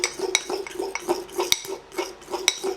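A spoon stirs fish paksiw in a metal pot, giving repeated scraping and clinking taps at an irregular rhythm, close and fairly quiet, with no talking.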